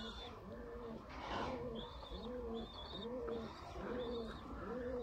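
Sialkoti high flyer pigeons, a breeding pair, coo in a steady repeating rhythm close by, soft throaty calls rising and falling over faint background chirps.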